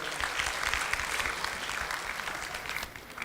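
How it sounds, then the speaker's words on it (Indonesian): Audience at a MikroTik user meeting applauding a presenter, a dense, steady wash of clapping from many hands that holds for the whole stretch and thins slightly near the end. "Beri tepuk tangan untuk Bapak Ahmad Mardiansyah."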